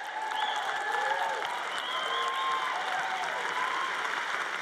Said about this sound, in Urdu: ہمارے پاس وہاں 3 لوگ موجود ہیں بس جو تالیاں بجا رہے ہیں